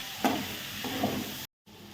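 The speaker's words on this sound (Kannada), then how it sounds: "ಹೈ ಫ್ಲೇಮಲ್ಲೇ ಕಲಿಸಿ" Paneer fried rice is stirred in a pan over a high flame, with a constant close sizzle and two distinct spatula scrapes, then a brief silent gap before the frying resumes.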